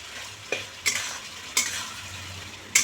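Spice paste for a banana flower curry sautéed in a pan, a soft low sizzle broken by four sharp scraping strokes of a spoon, quiet and close with no voices.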